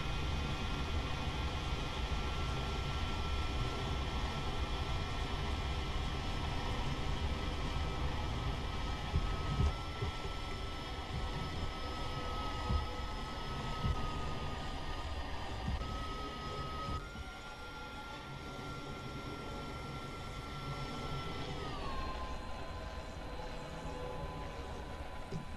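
An A-6E TRAM jet drones steadily through a flight simulator game, a constant broadband engine roar with a sustained whine that shifts pitch a few times, with no talking over it.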